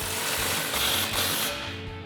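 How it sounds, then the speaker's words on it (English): An impact wrench with a 15mm socket tightens an exhaust clamp behind the muffler of an EcoBoost F-150 fitted with an MBRP exhaust, giving a loud, continuous rattling hammer with a rapid pulsing beat. "Go ahead and tighten that down. Now our clamp after muffler, same thing, impact and 15mm socket."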